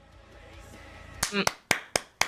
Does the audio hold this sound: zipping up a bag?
no